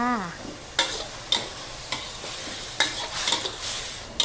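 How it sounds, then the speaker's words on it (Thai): Pork being stir-fried with curry paste in a wok, a regular scraping stir of spatula against the pan every half second or so over a steady close sizzle, with no talking. "น้ำเริ่มงวดแห้งเราก็ใส่ในส่วนของพริกแกงที่เราละลายน้ำไว้นะคะทีนี้เราก็คั่วเลยจ้า"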